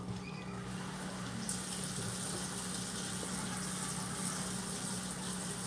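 Tap water runs steadily into a kitchen sink while vegetables are washed before cooking salmon, a constant broadband rush with no voices.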